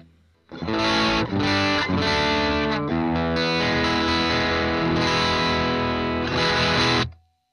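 A-Killertone Trench Coat Driver distortion pedal switched on, giving a loud, sustained overdriven guitar tone with chords ringing continuously for about six seconds before cutting off.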